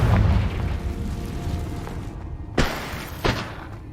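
Two sharp explosive bursts of a fire spell in Hogwarts Legacy crack out over a rumbling game background, the second following about a second after the first.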